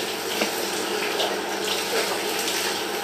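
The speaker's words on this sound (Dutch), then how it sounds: "een goed koud douche" A shower runs in a steady hiss of falling water, close and continuous, with faint splashes shifting now and then.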